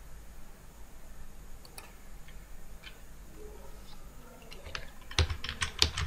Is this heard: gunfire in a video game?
no